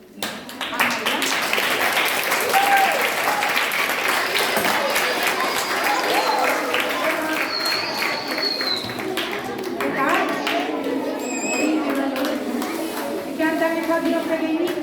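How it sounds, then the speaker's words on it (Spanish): Primary school audience applauding, scattered claps mixed with lively children's voices, squeals and chatter that run through the whole stretch at fairly close range. "Le damos un fuerte aplauso a María."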